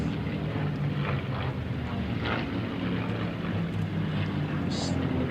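A P-51 Mustang at the Flying Legends airshow at Duxford in 2010 gives a steady, distant engine drone mixed with wind noise, heard beneath a commentator's voice.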